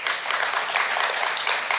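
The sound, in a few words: audience applause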